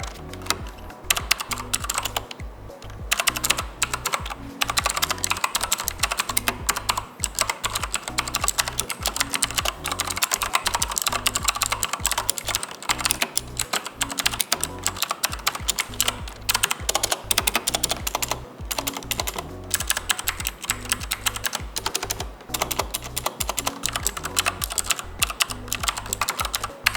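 Continuous fast typing on a Corsair K70 RGB Pro mechanical keyboard, dense clacky keystrokes close to the mic, steady throughout with no voices.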